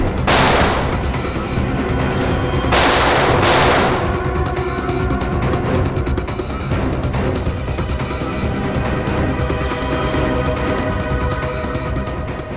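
Heavy gunfire rattles through a shootout, with two big bursts early on, then a dense, continuous spray of shots and booms that keeps up loud for the rest of the clip.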